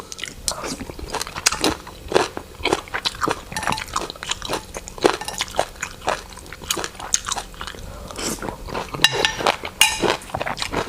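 Close, wet chewing and crunching of spicy stir-fried wild boar, irregular bites and mastication sounds with a few clinks of utensils and some murmured talk.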